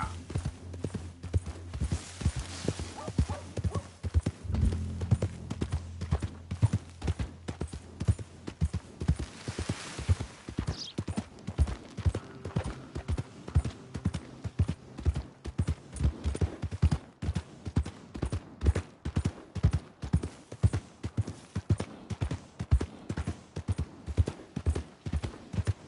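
Horse hooves clip-clop in Red Dead Redemption 2: a long, steady, rhythmic trot of close, distinct hoofbeats, with a brief low hum and a whinny-like swell partway through.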